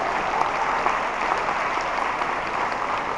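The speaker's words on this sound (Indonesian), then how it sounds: "Tepuk tangan sekali lagi." An audience at an ICT awards night in Indonesia gives a loud, sustained round of applause, even and continuous with no speech on top.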